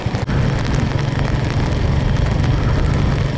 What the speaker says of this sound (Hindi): बारिश तेज हो गई है